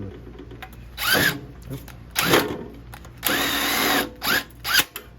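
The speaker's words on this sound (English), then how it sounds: "put you a big screw in there like that" A big screw is power-driven into a small bracket holding a 7-inch seamless gutter to a metal roof, with four loud bursts of drilling separated by brief pauses and quiet talk.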